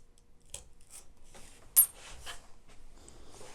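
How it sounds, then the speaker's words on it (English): A blade cuts through a thin sliver of foam in a few soft, separate snips and scrapes over near silence, with one sharper click partway through. "I'm simply going to remove just a little sliver of foam, and I'm going to cut all the way through"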